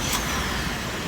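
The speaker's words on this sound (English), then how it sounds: "And this is our tram." A park tram at Yosemite gives a brief, close rumbling hiss, with a short burst near the start like an air release, all within about a second.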